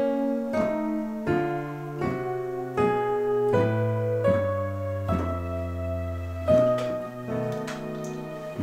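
Piano left hand playing a passing bass line of descending notes under chords, steady stepwise changes roughly every half second to second, sustained and clear with no talking.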